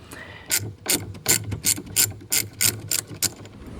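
A hand ratchet clicks in quick, even bursts, about ten close, sharp rattling strokes, while loosening the 10 mm negative battery terminal nut on a 2012 BMW 335i, with no talking.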